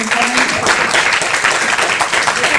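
An audience applauds at the close of a physics lecture session, a loud, dense wash of clapping that holds steady throughout, with voices mixed in.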